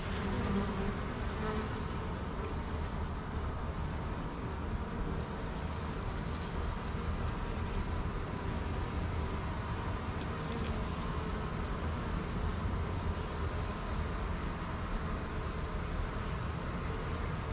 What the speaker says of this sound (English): These could just be bees that honestly were left behind when I moved.